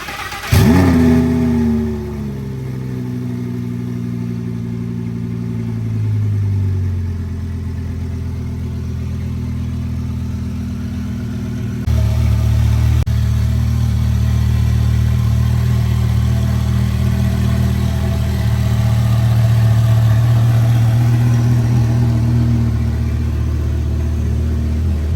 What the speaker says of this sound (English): Give me a cold start, Nick.